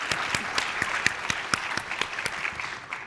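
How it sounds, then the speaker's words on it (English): Audience applause at a climate justice conference closing plenary, a short burst of scattered, moderately quiet clapping from a smallish crowd, with individual claps audible and no talk over it. "please clap"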